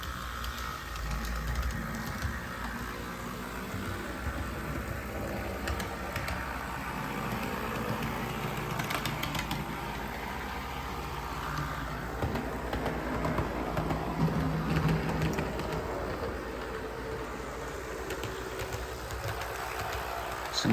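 A model train locomotive with stiff gears clogged by congealed grease runs steadily at close range, a continuous mechanical whir and rattle that keeps going as the drive frees up and gathers speed.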